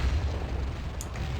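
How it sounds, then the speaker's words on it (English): A low, rumbling explosion in the Warhammer 40k: Fire Warrior video game holds steady and heavy across the clip, with a brief brighter burst near the end and no talking. "Didn't realize the explosion triggered that."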